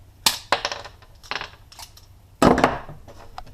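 Long-handled angle cutters snip the end off a switch salvaged from an electric meter test box, giving a few sharp, close snaps and clicks spaced unevenly, the loudest near the end.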